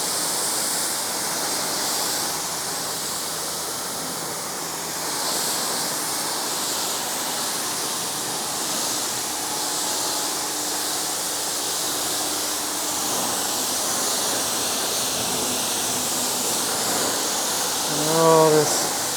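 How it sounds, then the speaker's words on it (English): Steady, loud hiss of a pressurized water spray rinsing a black car, continuous and close for the whole stretch, with a faint voice briefly audible near the end. "Rinse this bad boy off."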